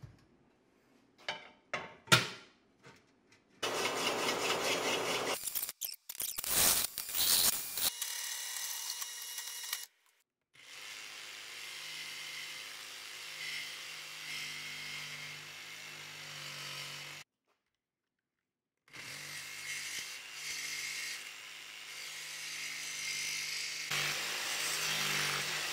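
A jigsaw and hole saw cut oval holes for a pipe in metal for a DIY rooftop hammock mount, heard as several loud buzzing cutting bursts separated by abrupt pauses and silent gaps.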